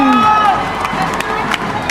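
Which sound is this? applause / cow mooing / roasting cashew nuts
applause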